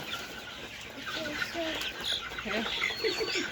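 Several Fayoumi chickens cluck and chatter softly nearby in short, overlapping bursts over a low background hum.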